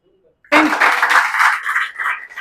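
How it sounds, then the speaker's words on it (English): A classroom audience in an English-speaking practice session bursts into clapping for a student. The applause starts suddenly and holds steady, a close and bright patter from a small group for about two seconds. "Clapping for him. Clapping."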